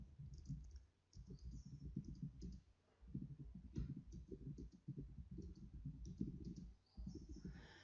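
Quiet, close-up typing on a computer keyboard: bursts of soft key clicks in quick runs, broken by short pauses, with no talking.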